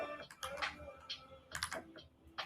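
Quiet bursts of typing on a computer keyboard, irregular clusters of clicks at close range in a still room.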